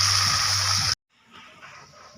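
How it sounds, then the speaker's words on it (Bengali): Broth poured into a cooking pan for a soybean, egg and potato curry, a loud steady gush of liquid that cuts off abruptly, followed by a quieter bubbling simmer. "এবার দিয়ে দেবো ঝোল পরিমাণ মতো"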